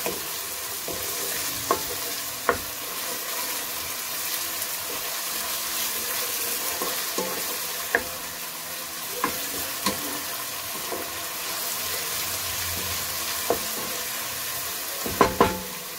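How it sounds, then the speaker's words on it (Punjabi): Chopped onions with salt fry in a pan for a potato and pea curry, giving a steady close sizzle broken by sharp spatula knocks and scrapes every few seconds. "ਸਭ ਤੋਂ ਜ਼ਿਆਦਾ ਟਾਈਮ ਜਿਹੜਾ ਹੈ ਪਿਆਜ਼ ਨੂੰ ਭੁੰਨਣ 'ਚ ਲੱਗਦਾ ਹੈ"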